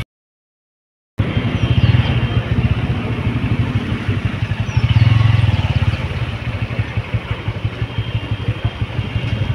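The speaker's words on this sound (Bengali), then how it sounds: "এখন দেখো রাস্তাঘাটটা কতটা জাম হয়ে গেছে" Heavy stop-and-go road traffic in a jam, with motorcycle and car engines idling and revving close by in a steady, dense rumble and light clatter, a louder engine surge swelling midway.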